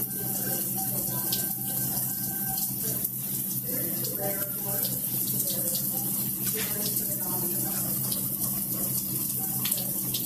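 Water runs steadily from a sink tap during a surgical hand scrub in a hospital, a constant splashing hiss with faint background tones and occasional scrubbing noises beneath.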